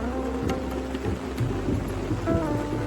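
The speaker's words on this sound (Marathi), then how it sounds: "अवस्था बघा एकदम मुसळधार पाऊस असेल सकाळपासून सुरुवात केलेली आहे" Heavy monsoon downpour in the dark of late afternoon, a dense, constant hiss of rain with low rolling thunder rumbling beneath it throughout.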